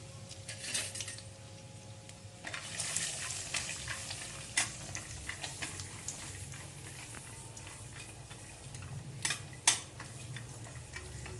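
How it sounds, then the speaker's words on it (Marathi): Cashews roasting in a spoonful of ghee for makhana-date ladoos give off a steady soft sizzle, with intermittent sharp spoon clicks and scrapes against the pan throughout. "पहिले काजू परतून घेणार आहे"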